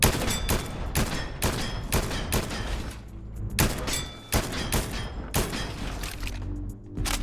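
Rapid bursts of Cobra gunfire in Fortnite, a video game, crack out in quick repeated volleys with brief pauses between clusters, loud and close with no talking.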